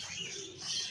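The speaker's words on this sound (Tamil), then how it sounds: "லவ் பேர்ட்ஸ், ஆஃப்ரிக்கன் லவ் பேர்ட்ஸ்லாம் இருக்குது." African lovebirds at a bird park give soft, high chirps over a brief moment, faint and somewhat distant amid quiet background noise.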